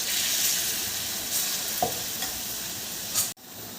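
Small snack balls made with jaggery, nuts and milk fry in a little oil, giving a steady, close hiss and crackle with a few faint stirring clinks and no talk.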